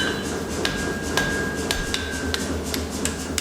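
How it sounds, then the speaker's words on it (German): A blacksmith hammers folded iron while forging a knife, giving loud ringing blows at a fairly steady pace over a low continuous hum. "dann fügt er es mit dem Hammer wieder zusammen"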